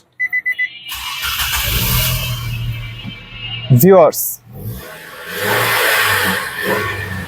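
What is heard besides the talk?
car engine starting and revving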